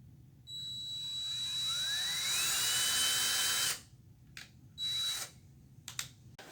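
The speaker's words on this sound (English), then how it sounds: "drill every 1/4 to 1/2 inch or so around that circle" A power drill bores a ring of holes around a circle for a homemade mace bell, with a whining motor rising in pitch, then short repeated bursts, close and clear.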